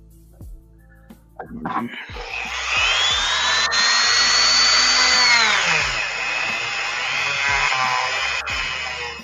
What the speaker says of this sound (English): Deepen that socket a little bit and put the O-ring in.